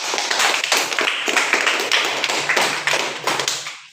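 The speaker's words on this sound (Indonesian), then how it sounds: "Bagus, tepuk tangan." Applause from a primary-school class during a lesson, many small hands clapping in a dense, continuous burst that stays steady and fairly close for the whole stretch, with no voices over it.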